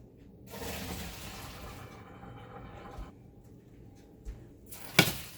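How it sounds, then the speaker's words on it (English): Cooked pasta is poured off and rinsed under cold tap water in a kitchen, giving a soft rushing splash that comes and goes, ending with a sharp metallic clank of the pot or strainer. "I'm going to drain this and run it under cold water."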